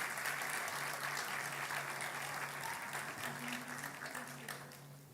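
Audience applauding award winners receiving certificates and prize money at an academic conference, a steady wash of clapping from a sizeable crowd that holds for several seconds before easing off slightly at the end.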